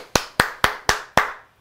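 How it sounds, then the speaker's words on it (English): Five sharp hand claps ring out at an even, brisk pace close by, each with a short decaying echo, made to test an Australian Labradoodle puppy's hearing. "we'll do the clap test and see what black collar tells us"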